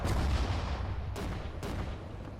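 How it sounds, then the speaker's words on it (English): Artillery fire in the WWII strategy game Sudden Strike 4: a heavy low rumbling blast followed by two sharper distant shots, booming and reverberant with no talk. "Artillerie, Feuer! Ziel unter Beschuss nehmen!"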